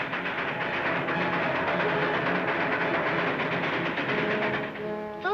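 A train runs steadily along the track in a 1950s western setting, a loud continuous rumble and rattle of cars that holds throughout, with a brief whistle-like squeal rising near the end.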